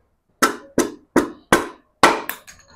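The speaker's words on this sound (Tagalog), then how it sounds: "Pero kung wala ka namang rubber mallet, ito na lang, yung standard na martilyo." A standard steel hammer taps a sealed bearing bicycle headset into the frame. Five sharp, evenly spaced metallic knocks ring out close by, each with a short decay, and a lighter final tap follows.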